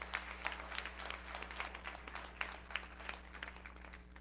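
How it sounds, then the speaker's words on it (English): A Baptist church congregation claps in praise during a Sunday sermon, a steady, moderately distant patter of many hands over a constant low hum, with no talking. "please give our God a hand clap of praise"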